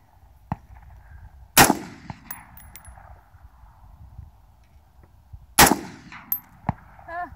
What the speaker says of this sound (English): Shoot it up onto the hill, far away.